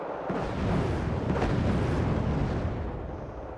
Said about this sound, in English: Again, this place has been constantly getting shelled.